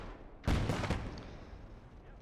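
.50 cal machine gun firing in Gates of Hell: Ostfront, a sudden loud rolling burst of heavy gunfire that decays into a long rumbling tail over battle noise, with no talk.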